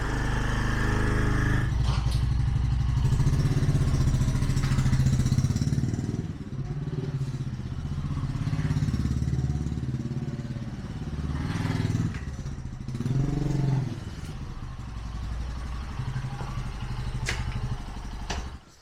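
A Bajaj Boxer motorcycle engine runs after its valve clearances have been adjusted, idling and warming up with a steady close putter and a few brief changes in pitch, with no voices.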